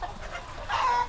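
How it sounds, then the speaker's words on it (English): Chickens clucking inside a crowded chicken farm, a dense mix of hens and roosters calling together, steady and close with a swell of louder squawking toward the end. "There's a lot of chickens in here, Charlie,"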